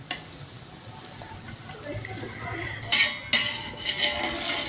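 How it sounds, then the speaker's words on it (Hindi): Potatoes are tipped into a pot of fried tomato masala for aloo egg biryani, with spoon scrapes, clinks against the pot and a faint sizzle, building to a few louder clatters near the end. "अब इसमें हम डालेंगे आलू"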